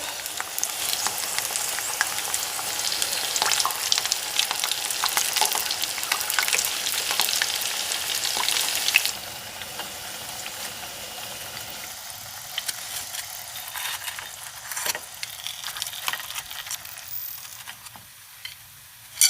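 Crab rangoon deep-frying in hot oil: a dense, loud sizzle that drops sharply once the pieces are turned over, then settles into a softer bubbling hiss with a few light clinks.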